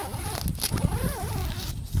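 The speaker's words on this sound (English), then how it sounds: "just unzip the tent and enter here, rezip the vestibule underneath" A tent vestibule zipper is pulled open with a short, rasping zip, close and fairly loud, against faint outdoor background noise.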